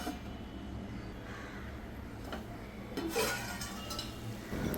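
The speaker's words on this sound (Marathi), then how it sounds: "आणि चिकन हे व्यवस्थित मिक्स करून घ्यायचे आहे, जेणेकरून मसाला त्याला एकन एक पीसला लागेल असा" Chicken pieces being mixed with masala in a pot for chicken biryani produce quiet clinks and scrapes of a spoon against metal. A louder stir swells near the end.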